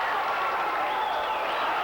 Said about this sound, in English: The crowd is buzzing with electricity here